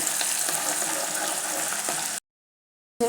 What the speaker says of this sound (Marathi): एक लहान कांदा आणि थोडा कढीपत्ता याच्यामध्ये बारीक चिरून घालायचं आणि याला थोडंसं परतून घेऊया